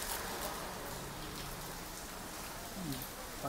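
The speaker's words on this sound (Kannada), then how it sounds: "ಆಚೆಗಡೆ ಮಳೆ ಬೀಳ್ತಾ ಇದೆ" Rain falls steadily outdoors as a soft, even hiss of drops on surfaces, faint and continuous, with a few brief louder patters near the end.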